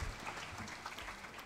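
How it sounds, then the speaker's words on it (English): Faint audience applause at an anniversary event for a Nobel Peace Prize award, a soft even patter of clapping heard from a distance, low in level and without talk. "Of course, round of applause"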